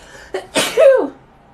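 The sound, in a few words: sneeze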